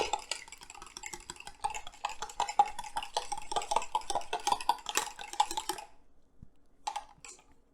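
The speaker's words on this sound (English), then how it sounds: "So I'm just going to take a fork, whisk whatever you have," Eggs are beaten briskly with a fork in a bowl for a baked oatmeal, making rapid, close, scratchy clinks for about six seconds, then a pause and a couple of final taps, with no voices.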